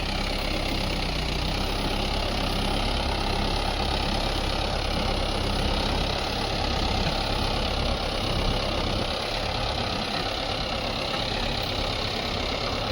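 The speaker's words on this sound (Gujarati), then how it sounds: "પચાસ હોર્સ પાવરનું ટ્રેક્ટર છે મહિન્દ્રા" A Mahindra Yuvo 575 tractor with a 50 hp engine runs steadily in a field while pulling a large plough, giving a loud, continuous mid-to-low engine drone with no breaks and no talk.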